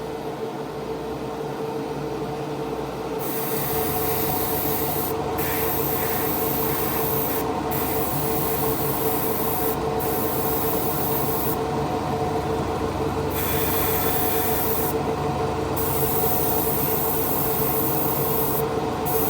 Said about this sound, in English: I'm just putting a little dusting coat over all the rub through areas